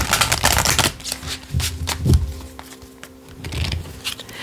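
Tarot cards are shuffled close up in a quick riffling flutter, a loud flurry at the start followed by softer slaps and taps as the deck is handled.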